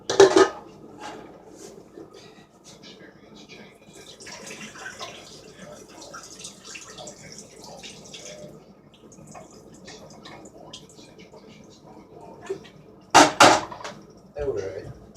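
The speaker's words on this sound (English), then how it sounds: "we're going to go ahead and dump some of this grease out" Grease dumped from a frying pan after browning meat for cheesy sloppy joes, with clattering pan and utensil knocks, a trickling pour in the middle, and sharper metal clanks near the end, fairly close.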